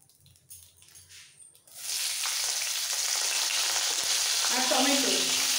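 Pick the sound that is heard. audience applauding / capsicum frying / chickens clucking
capsicum frying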